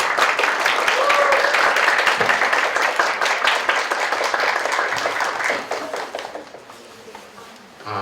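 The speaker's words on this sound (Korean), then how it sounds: "박수로 우리 환영해 볼까요?" An audience at a church mission event applauds to welcome a missionary to the stage, a steady wash of clapping hands that fades near the end as a voice begins over it.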